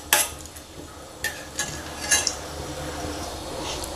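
Whole spices (bay leaf, cinnamon, cardamom, cloves) stirred in a pan while preparing soyabean masala, with a few scraping clinks of the spoon against the pan over a faint background sizzle.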